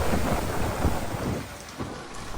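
Rain falls steadily outside a garage, a dense hiss of drops on hard surfaces with a low rumbling undertone, continuous and fairly close, no voices.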